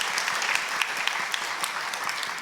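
Congregation applause during a Sunday church worship service, a dense steady wash of many hands clapping at moderate level with no voices over it.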